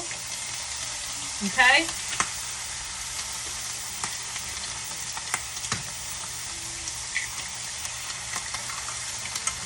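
Eggs crack into a hot pan beside ham and fry with a steady, close sizzle that runs throughout, after a brief burst of cracking and tapping early on; a single voice speaks very briefly.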